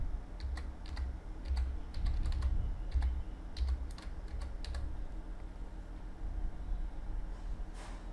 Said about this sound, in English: So type the password which I have shown you earlier.